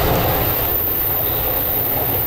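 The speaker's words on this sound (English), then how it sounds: "even though we're in a cab car and we're being pushed" Steady, loud rumble of a passenger train riding in a cab car while being pushed by its locomotive, a continuous low roar of wheels and motion without pauses and no voices.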